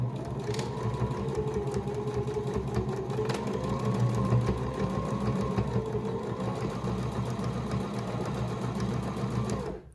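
A sewing machine stitching fabric for a Chromebook case hums steadily and evenly at close range, a continuous motor whir with a faint rhythmic clatter that holds for the whole stretch.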